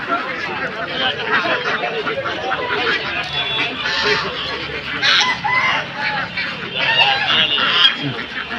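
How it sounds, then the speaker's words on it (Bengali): Pure white geese at a duck and chicken market give repeated nasal honks mixed with chicken clucks and crowing, loud and close, over a steady hum of people talking. "সাদা ধবধবা খুব সুন্দর লাগতেছে রাজহাঁসগুলা"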